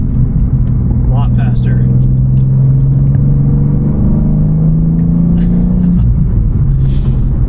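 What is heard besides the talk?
sports car engine gear shifts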